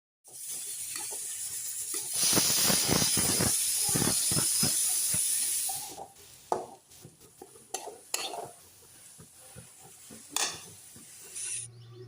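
Loud sizzling hiss of chickpeas stir-fried in a pan with green chili, onion and garlic leaves, with rhythmic scraping and stirring, then quieter clinks and scrapes as the sizzle drops away.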